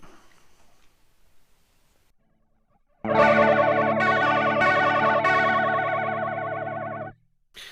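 Electric guitar played through a TC Electronic Thunderstorm flanger pedal with every control at full, ringing out after a quiet start in a loud sustained wash of strummed chords with a strong sweeping, whooshing modulation that cuts off abruptly near the end.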